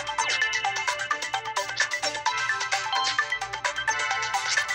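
A mobile phone ringtone plays a bright, repeating electronic melody loudly and continuously, heard alone without talk.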